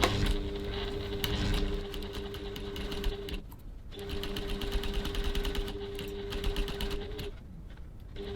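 Sewing machine top stitching close to the edge of a trimmed bag slip pocket at a 3.5 stitch length, running in a steady, continuous whir near the mic with a brief pause partway through before starting up again.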